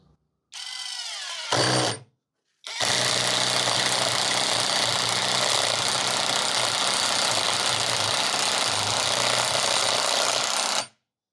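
A TECEPO 21V cordless impact wrench drives a 4.5x45 screw into a wooden rafter, giving a steady, loud rattling hammer buzz after a brief start and pause, running about eight seconds alone before stopping.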